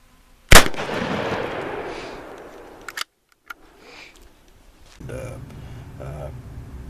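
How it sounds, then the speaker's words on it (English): A Ruger 10/22 converted to a muzzleloading barrel fires a 35-grain charge of 777 powder behind a PBA Raptor, one sharp loud report followed by a rumbling tail, then a few clicks and a short voice. "this is 35 grains of 777 with a PBA Raptor"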